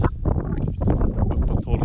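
Strong gusty wind buffets the microphone on a chilly morning hike along the Gröna Bandet trail in northern Sweden, with gusts around 12 metres per second roaring in uneven, close surges.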